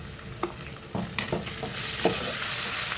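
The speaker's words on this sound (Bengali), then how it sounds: "এখন আদা রসুনের কাঁচা গন্ধ চলে যাওয়া পর্যন্ত নেড়ে চড়ে মশলাটাকে এইভাবে কষিয়ে নিয়েছি" Ginger-garlic paste and onions fry in a wok, giving a steady sizzle that grows louder, broken by a few sharp scrapes and clacks of stirring.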